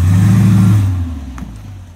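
A VX SS Commodore with a 4L60E automatic pulls hard under acceleration, its loud engine drone holding steady and then dropping away as the gearbox shifts up, with no talking.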